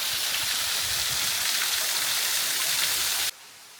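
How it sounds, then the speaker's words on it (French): A waterfall cascades beside bamboo at a temple in Hiroshima, a loud, steady broadband rush close by that cuts off abruptly near the end. "Avec la cascade juste ici,"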